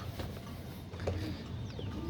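Soft, low cooing from netted racing pigeons runs steadily through the clip against a busy background hum, with no voices.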